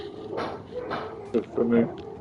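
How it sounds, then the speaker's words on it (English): Dogs bark and whimper indoors in a few short, sharp bursts near the end, fairly close and loud, following a quieter stretch with voices in the background. "Excuse my dogs."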